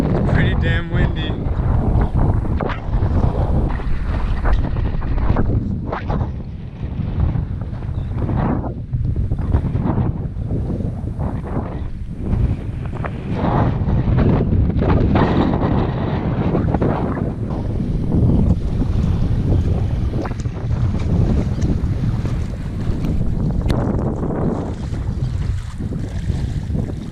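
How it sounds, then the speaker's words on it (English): Strong, gusting wind the morning after Hurricane Laura buffets the microphone at a lakeside park in heavy, continuous roars, with lake water or waves churning underneath. "Damn windy."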